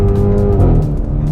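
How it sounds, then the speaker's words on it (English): A 2021 Hyundai Veloster N engine bounces off its rev limiter, a loud, close, buzzing drone that holds high and then stutters and wavers as the limiter cuts in. "It definitely sounds cool when it bounces off the rev limiter."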